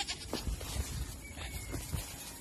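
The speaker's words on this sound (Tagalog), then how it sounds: "Yung kambing namin native." Native goat bleating in repeated short calls on a farm, a few overlapping cries at close to moderate distance over a steady outdoor background.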